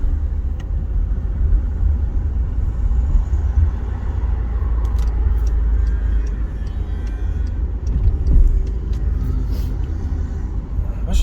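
Road traffic rumbles through Brixton, London, a steady deep drone of passing cars and heavier vehicles with a brief air-brake hiss and faint voices in the background.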